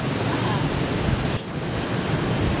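A waterfall in the Canadian wilderness gives off a steady, dense rushing roar of falling water. It stays loud and continuous with one brief dip midway, and no voices are present.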